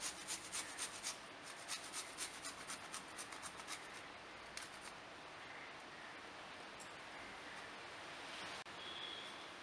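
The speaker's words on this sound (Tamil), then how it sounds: "பூண்டு ஒரு 2 பல்லு பூண்டை துருவி போட்டுக்கலாம்." Two garlic cloves grated for kappa kizhangu (tapioca) uppuma, giving quick rhythmic rasping strokes at first, then a fainter continuous scraping rub, close and alone with no talk.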